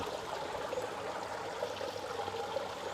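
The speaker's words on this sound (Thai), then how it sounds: "อันนี้จะเป็นผนังน้ำล้นด้านนอกนะครับ น้ำไหลผ่าน" Water rushes over a swimming pool's outer overflow wall in a steady, continuous wash, fairly faint and even throughout, with no voices.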